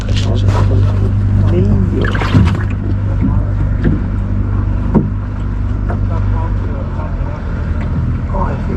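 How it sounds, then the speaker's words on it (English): A large motor boat passes close to a small inshore fishing boat off Cornwall, a steady engine drone and water noise heard near and loud, with someone talking over it. "This big motor is right on top of my street."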